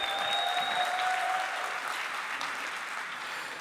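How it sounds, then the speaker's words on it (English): A convention audience claps in a dense, sustained burst of applause that slowly tapers off, with a faint tone ringing briefly at the start. "Give yourself a big round of applause for me"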